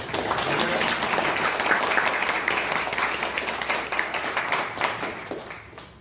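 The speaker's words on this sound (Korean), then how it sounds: "다시 한번 격려의 박수 부탁드리겠습니다" Audience applause at a Korean dental association election candidate's press conference, a steady dense round of clapping that holds throughout and fades slightly toward the end.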